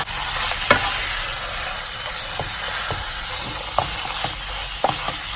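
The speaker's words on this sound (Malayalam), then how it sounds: "ഇത് നന്നായിട്ടൊന്ന്" Marinated chicken and fried coconut pieces sautéing in a hot pan for traditional coconut-roasted chicken, a steady close sizzle broken by scattered stirring scrapes, with no voices.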